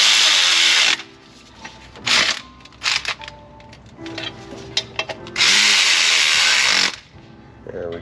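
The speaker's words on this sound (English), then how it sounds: "I'm torquing these to the good and tight spec." Power tool or impact driver run in bursts on the top-end bolts of a 2002 Pontiac Firebird GM 3800 3.8L V6 during a lower intake reseal, with several loud whirring spells and clicking, ratchety handling between them, close up.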